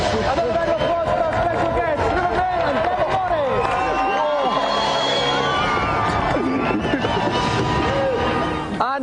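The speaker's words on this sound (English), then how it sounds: "Another round of applause for our special guests, Rupert and Demi Morris!" Loud, dense crowd noise from a television studio audience on a video-game show, with cheering, shouting and babble filling the whole stretch without a break.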